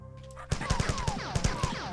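Rapid gunfire from the first-person shooter game Marathon (Aleph One), a quick run of punchy shots fired in a steady rhythm, with a faint trailing whine between them.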